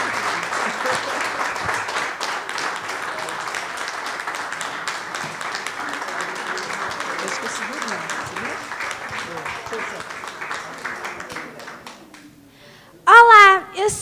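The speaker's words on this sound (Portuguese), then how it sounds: "eu vou pedir que dê uma salva de palmas para ela ficar confiante" An audience applauds steadily and fairly loudly for a long stretch, then the clapping fades and a voice begins speaking near the end.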